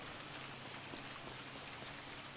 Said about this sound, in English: Glad it's raining right now.